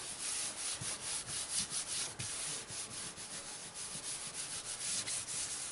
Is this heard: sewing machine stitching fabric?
no